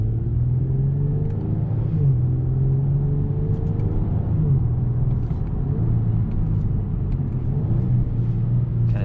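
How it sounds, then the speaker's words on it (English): A 2021 Genesis G70 3.3t with an 8-speed automatic being driven, heard from inside as a steady, loud engine drone and road rumble, with slight rises and falls in pitch as it shifts and accelerates. "this engine is connected to an 8-speed automatic transmission"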